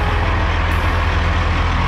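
A Peterbilt glider truck pulls in close by, its engine rumbling low and steady, loud and continuous, with no voices.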